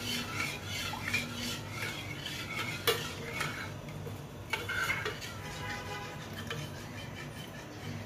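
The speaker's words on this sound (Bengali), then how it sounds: "এখন এইটা নাড়াচাড়া বন্ধ করা যাবে না।" A spoon stirs a milk and chocolate pudding mixture in a pot on the stove, giving steady close scraping and swishing with occasional metallic clinks against the pot's sides.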